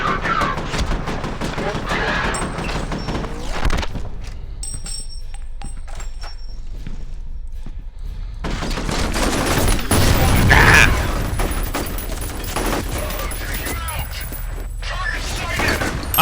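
Sustained bursts of rapid video-game gunfire empty a full magazine, loud and dense, with a brief pause before firing resumes, while a voice talks over parts of it.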